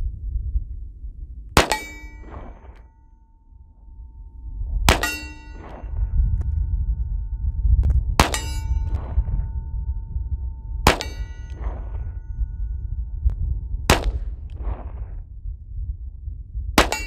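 Taurus Model 65 revolver firing .38 Special or .357 Magnum rounds outdoors, six sharp ringing shots spaced a few seconds apart, each followed by a short echo, loud and close over a low rumbling background.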